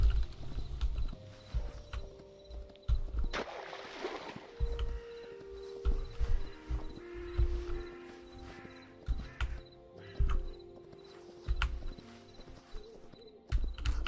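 Horse hooves clip-clop steadily in the video game Hytale, with repeated low thuds across the whole stretch, occasional whinny-like calls and game sounds layered over them, at moderate loudness with no talk.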